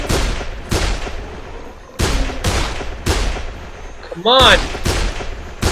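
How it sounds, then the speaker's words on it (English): Gunshots from shooting zombies in the Dead Island video game: several sharp, loud shots spaced roughly a second apart, with a brief shout and a rising whistling game effect between them. "I'm shooting you in the head, how are you not dead?"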